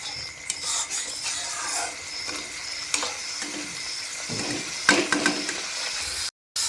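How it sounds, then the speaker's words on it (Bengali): Spice paste with turmeric and chilli powder sautéing in a pan for a Bengali doi katla curry, steady sizzling with scraping stirs and clinks of the spatula, briefly cutting out near the end. "লঙ্কার গুঁড়ো দিয়ে সব কিছু ভালো করে কষিয়ে নেব"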